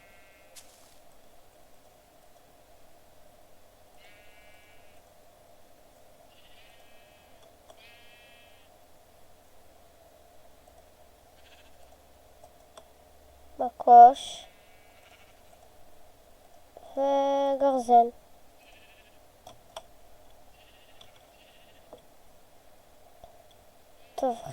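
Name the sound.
sheep bleating in the video game Minecraft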